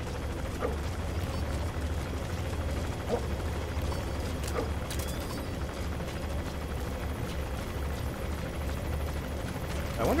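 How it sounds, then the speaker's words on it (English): A helicopter in Metal Gear Solid V: The Phantom Pain drones continuously as a low, steady rotor rumble under game ambience, with a few faint mechanical clicks scattered through. "I wonder if there's any way to hijack that helicopter."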